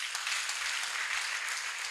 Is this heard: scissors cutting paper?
no